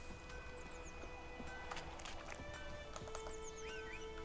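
A horse moves through the world of The Witcher 3: Wild Hunt, soft hoofbeats running under a bed of outdoor ambience with birdsong chirping overhead, everything fairly quiet and distant.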